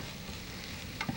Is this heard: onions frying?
yes